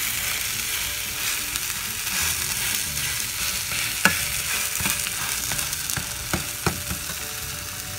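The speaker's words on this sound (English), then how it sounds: "So you can see the pancake is cooking. And I'm going to try to flip it." A Korean seafood and vegetable pancake fries in a hot pan with a continuous close crackling sizzle, broken by a few sharp spatula taps and scrapes near the middle and end.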